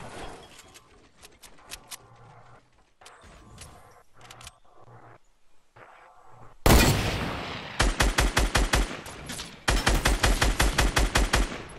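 Rapid automatic gunfire in Fortnite erupts loud and close after a quieter stretch of scattered shots, with bursts of evenly spaced rounds and a brief pause before another sustained volley.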